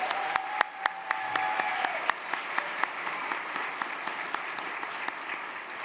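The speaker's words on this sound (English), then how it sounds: "let's thank them for their continued dedication to society with a round of applause" Scattered applause from a seated audience at a conference luncheon, steady clapping with sharp individual claps standing out, moderately distant in a large hall and continuing evenly throughout.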